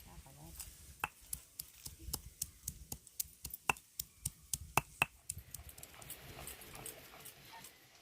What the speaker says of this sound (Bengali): পেঁয়াজ কলিগুলোকে এবার অর্ধেক অর্ধেক করে মাঝখান থেকে চিড়ে নেবো।